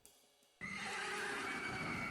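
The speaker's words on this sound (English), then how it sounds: "gut-wrenching just neigh from this nightmare" A horse neigh voiced for a nightmare creature in a tabletop fantasy game bursts in suddenly after a quiet start and holds loud and harsh to the end.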